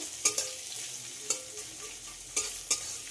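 Finely chopped onion frying in a pan to a light brown, a low steady sizzle with several sharp spatula scrapes and taps spaced across it; no voices.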